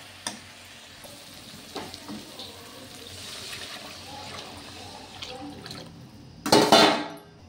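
Water is poured into hot, oil-separated masala while cooking an Odia prawn curry, setting off a short, loud burst of sizzling near the end after a quiet stretch of faint kitchen noise.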